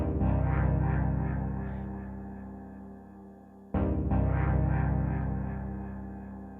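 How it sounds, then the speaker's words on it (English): Sustained dub techno chord on track 5 of an Elektron Tonverk, a loud, dense pad with a soft pulsing texture that slowly fades, then retriggers sharply and swells back up, no voices. "The second element of this track is a chord, which sits on track number 5 and sounds like this"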